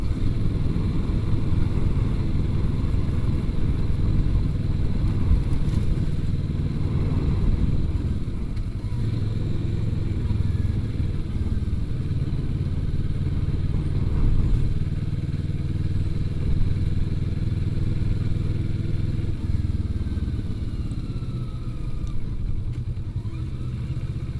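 A Kawasaki Vulcan S motorcycle rides over a bumpy road, its engine giving a steady, loud, low rumble throughout with occasional clattering jolts and slight swells in revs.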